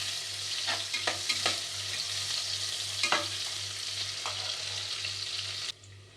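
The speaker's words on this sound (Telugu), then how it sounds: "మనకి ఆనియన్ మంచి బ్రౌన్ కలర్ వచ్చే వరకు ఫ్రై చేసుకోవాలి" Onions with curry leaves and green chillies frying in a pan toward brown, a steady close sizzle broken by several sharp spatula scrapes and taps, fading abruptly at the end.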